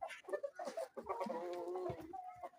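Adult roosters and hens cluck close by in a short burst of several overlapping, choppy calls.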